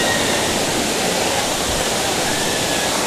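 A waterfall on a hill near a tanda roars as a dense, continuous rush of water, steady and loud with no breaks and no voices.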